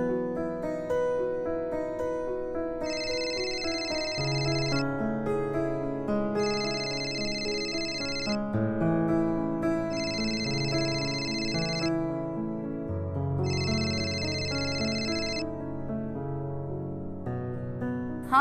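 A phone rings on speakerphone in four evenly spaced electronic bursts, each lasting about two seconds, layered over continuous background music with no talking.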